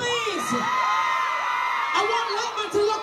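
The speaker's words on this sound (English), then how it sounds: "Ladies in the audience. All the single ladies, scream," Women in a live reggae concert audience scream and whoop together, a loud sustained wash of high-pitched cheering with overlapping shrill yells that swell and dip across the stretch.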